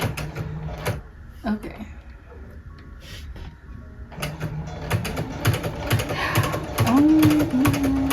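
A home sewing machine fitted with a ruffler presser foot runs in short bursts, with rapid mechanical clatter and ticking as it forms small pleats, close by, stopping and restarting while someone speaks briefly between runs.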